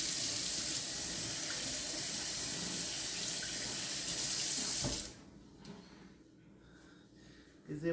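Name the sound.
water running from a tap while washing hands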